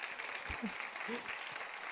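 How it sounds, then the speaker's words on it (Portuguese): A church congregation applauds during a sermon, a soft, diffuse patter of many hands heard from a distance, with a few faint tonal sounds standing out briefly in the room. "Pode aplaudir ao Senhor. Pode aplaudir."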